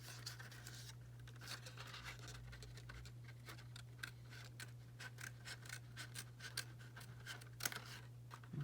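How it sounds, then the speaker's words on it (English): Small scissors snip paper repeatedly in quick, crisp cuts, close and fairly quiet over a steady low hum, while making a paper box for tarot cards. "This is where I use my little scissors."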